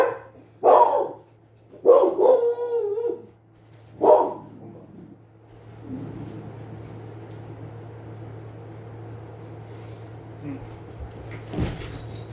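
A dog barks close and loud in three or four bursts over the first few seconds, then goes quiet under a low steady hum, with a faint knock near the end.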